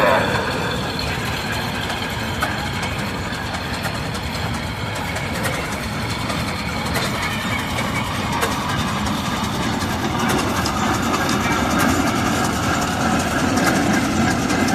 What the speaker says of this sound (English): This is a 1957 Minneapolis Moline 5-star, owned by the Spencer family, operated by Steve Spencer.